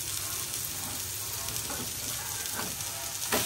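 Steady oil sizzling of fish frying in a nonstick pan, with a few brief clinks and stirs near the end; no talking.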